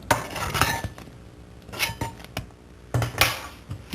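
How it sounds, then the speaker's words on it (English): A spoon scraping and knocking against a bowl while folding cocoa, vinegar and chocolate into meringue, giving several close clinks and scrapes in uneven bursts with quiet gaps between. "Just keep turning the spoon round and down until everything is gently combined."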